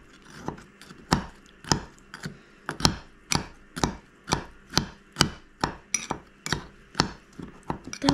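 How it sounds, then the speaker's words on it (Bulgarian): A spoon stirs crushed biscuits in a cup for a mug cake, scraping and tapping in a steady rhythm of about two strokes per second, close and clear with no voices over it. "След това взимате си лъжичката и разбърквате"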